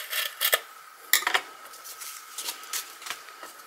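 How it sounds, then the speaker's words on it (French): A piece of ribbon is cut during card-making, giving a few sharp, close snips and small scraping clicks spread unevenly over a quiet background. "Je vais couper un morceau de ruban."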